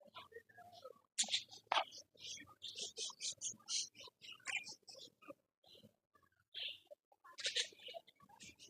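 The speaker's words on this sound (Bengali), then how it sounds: "আর এটা হলো টিয়া পাখি।" Parrot and budgerigars in an aviary give bursts of sharp, high chirps and squawks, near and irregular, with quiet gaps between calls and faint murmuring voices underneath.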